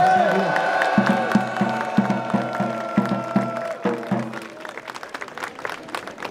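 A crowd at a trophy presentation during the Ommegang festival in Brussels applauds with scattered cheers and whoops over a loud band playing brass and drums.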